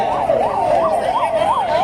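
An ambulance siren at a civil defence mock drill in Davangere, a loud, close wailing tone rising and falling in a steady, repeated cycle with no pauses.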